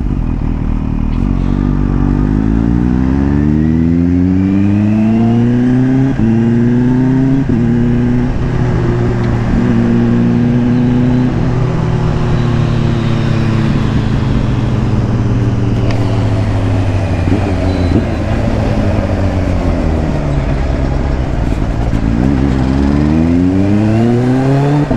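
A Kawasaki Ninja H2 sport motorcycle revs hard and climbs through several gears toward top speed, pitch rising and dropping with each shift, loud and close for a long sustained run.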